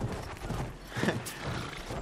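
Horse hooves clip-clop in a video game, a quick run of light hoofbeats with faint creaks over steady game background noise, fairly quiet and with no clear speech.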